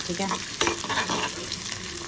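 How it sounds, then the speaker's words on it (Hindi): Garlic, chili, onion and capsicum frying on a high flame: a steady, close, hissing sizzle with stirring scrapes through it and a brief spoken word at the start. "फिर प्याज एंड देन कैप्सिकम। इसको हाई फ्लेम में थोड़ा पका लेंगे"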